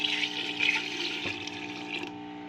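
Water poured from a glass into masoor or chana lentils in a cooking pot, a steady splashing pour lasting a couple of seconds over a faint background hum.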